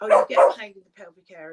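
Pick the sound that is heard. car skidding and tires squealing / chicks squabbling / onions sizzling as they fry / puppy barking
puppy barking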